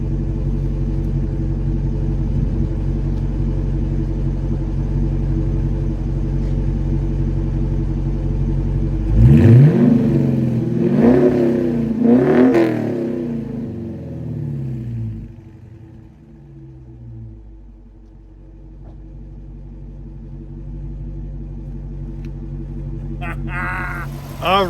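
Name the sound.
2019 Dodge Challenger R/T 5.7 liter Hemi V8 exhaust revving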